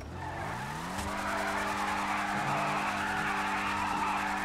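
Ford Mustang GT in GTA 5 skidding hard, a sustained loud tire squeal over a revving engine whose pitch climbs then holds steady, continuous for several seconds without talk.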